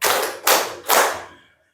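A classroom of students claps in unison as part of a counted clapping routine, three sharp, close group claps in quick succession, each one decaying before the next, then silence.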